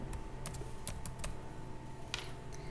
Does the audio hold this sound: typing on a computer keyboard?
yes